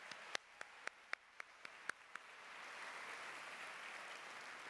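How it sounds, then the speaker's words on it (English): Scattered single claps from a luncheon audience honoring servers and catering staff, then a fuller, quieter wash of applause swelling up and holding steady, faint and somewhat distant. "a round of applause, please, please, for our servers and our catering staff."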